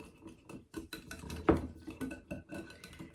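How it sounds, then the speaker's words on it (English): A spoon scraping and clinking against a bowl while apple cinnamon chia pudding is stirred, giving soft irregular taps and one sharper knock near the middle, fairly quiet and close. "I'm going to get just this stirred up a little bit, or a lot"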